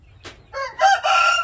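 A Pakoi fighting rooster gives a single close, loud crow, starting with a short rough note and rising into a sustained harsh cock-a-doodle-doo, with no talk.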